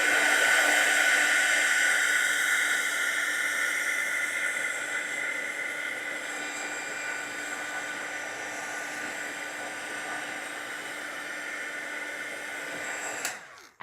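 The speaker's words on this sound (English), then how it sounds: "I'm just with my heat tool to dry everything." Heat tool blowing over watercolor paint to dry it, a loud steady whooshing hiss for about thirteen seconds that softens slightly midway and cuts off abruptly at the end, no talking.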